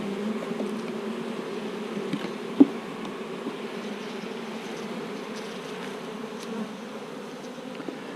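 Honeybees buzz at a hive during November hive work, forming a steady, moderately close droning hum with scattered individual wingbeats and no voices.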